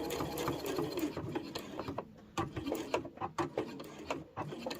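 A sewing machine stitches the seam of a fabric book sleeve, giving close, rapid mechanical clatter in uneven bursts as the needle runs and pauses.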